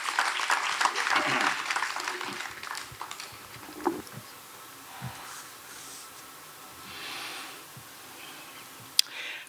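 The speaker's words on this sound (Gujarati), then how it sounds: "સીધા જ પંડ્યા સાહેબને આપણે જોરદાર તાળીઓથી આવકારી લઈએ." A crowd claps in a burst of applause that fades over a few seconds, leaving a quieter room with scattered murmurs and a sharp click near the end.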